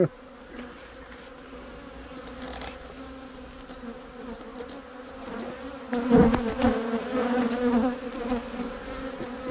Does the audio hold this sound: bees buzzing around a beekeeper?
yes